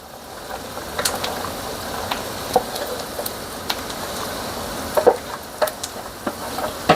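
Corn, onions and peppers sizzle in bacon fat in a pan, a low steady frying hiss broken by scattered pops and stirring scrapes close by.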